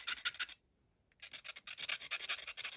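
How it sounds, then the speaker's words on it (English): Quick rasping scrapes of a metal pyrography tip rubbed back and forth on sandpaper, a short pause, then more rapid rubbing strokes, close up. "rub them over the sandpaper"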